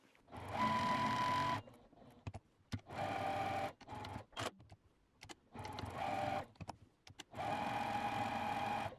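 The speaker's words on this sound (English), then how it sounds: "I'm actually going to sew around the pocket on all three sides" A sewing machine stitches around a fabric pocket for a quilted tote bag, running in several whirring bursts of one to two seconds separated by short pauses and small clicks, near and clear without talk.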